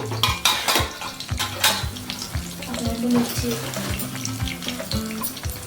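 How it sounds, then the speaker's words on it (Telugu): Garlic cloves frying in hot tempering oil for a capsicum fry, a loud close sizzle with spoon knocks and scrapes against the pan repeating at an uneven rhythm. "ఇప్పుడు ఈ తాలింపు వేగిని ఇప్పుడు అందులోకి వెల్లుల్లి రెబ్బలు వేసుకుందాం"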